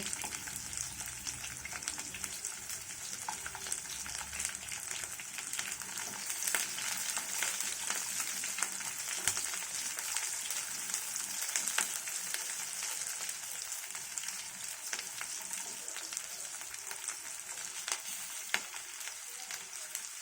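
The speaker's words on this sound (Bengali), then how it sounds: "পেঁয়াজ রসুন কাঁচামরিচ ভাজা হয়ে গেছে" Onion, garlic and green chilies fry in a pan with a steady, dense sizzle and crackle, close and continuous, with occasional stirring scrapes and no talking.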